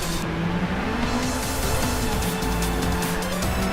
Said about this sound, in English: As you can just hear the tires just suffering.